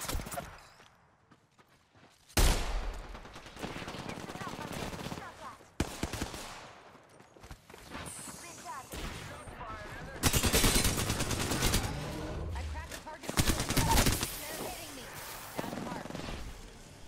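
Bursts of video game gunfire rattle around a player in a battle royale match, with repeated shots and loud impacts that come and go over steady action noise while a voice talks.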